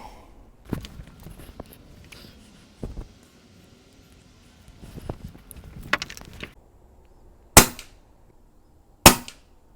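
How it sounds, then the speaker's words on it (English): Benjamin pellets are fired from a Pinty bullpup air rifle at a target at 50 yards, giving two sharp, loud cracks near the end, after several softer handling clicks and taps, with no talk. "And hopefully I'll shoot them at the top target."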